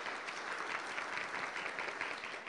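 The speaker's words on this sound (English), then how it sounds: "If you'd give yourselves a round of applause for taking time out of your busy schedules and lives to be here" Audience at a summit applauding, dense rhythmic clapping from many hands that carries on evenly, moderately loud and without voices.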